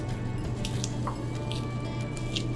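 Crunchy raw onions for coleslaw are squished and mashed in a bowl by hand, giving soft, wet crackling squelches in irregular bursts, close and moderately quiet over a steady background hum.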